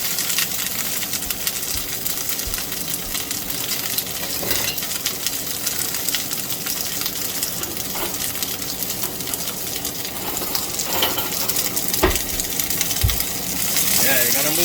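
Asparagus sautéing in a pan with no seasoning, a steady broad sizzle running throughout with a few faint clicks and stirring knocks, close and moderately loud.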